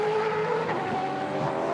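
A Super2 race car drives onto the front straight at Sandown in qualifying, its engine a loud sustained high-revving drone with a rising tonal whine, heard close and continuous.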